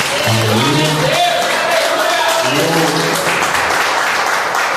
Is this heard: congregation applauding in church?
yes